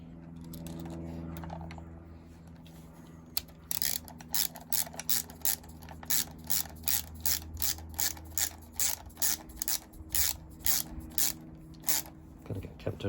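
A bar end mirror is screwed into the handlebar of a Royal Enfield Hunter 350 motorcycle with a ratchet, giving a quick run of sharp, evenly spaced clicks that follows a quieter stretch of handling noise.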